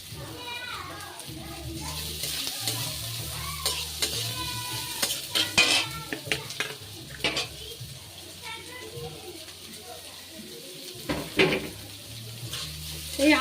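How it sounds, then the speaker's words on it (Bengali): Ginger, onion, garlic and green chili fry in a pan with steady sizzling and occasional stirring scrapes, while voices are heard in the background throughout. "এই আদা পেঁয়াজ রসুন আর কাঁচা লঙ্কা এটাকে একটু ভেজে নেব"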